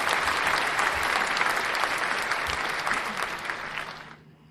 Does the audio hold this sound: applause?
yes